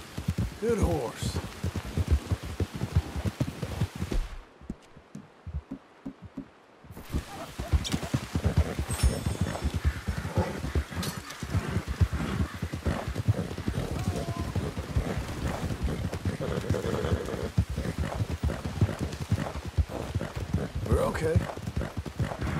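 Horse hooves clip-clop steadily on a dirt path in the video game Red Dead Redemption 2, a close, continuous rhythmic trot that pauses briefly and resumes, with a voice speaking softly now and then.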